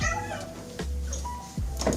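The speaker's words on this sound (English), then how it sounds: "I need my emotional support cat." A house cat meows several times indoors, close and fairly loud, with drawn-out cries and a couple of short chirps.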